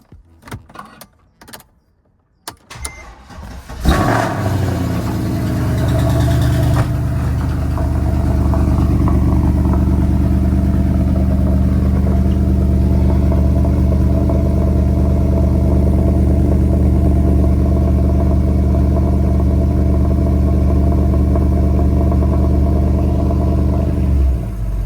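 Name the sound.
car engine idling after key start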